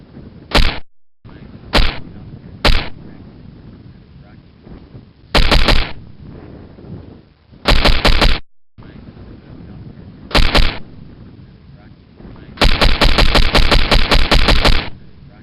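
Bursts of M16 rifle gunfire, single shots and rapid full-auto strings, sharp and loud, separated by short pauses with a low background rumble.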